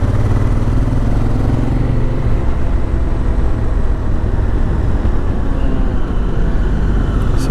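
A motorcycle rides on wet asphalt with studded tires, giving a loud, steady engine drone mixed with wind and road hiss and no talking.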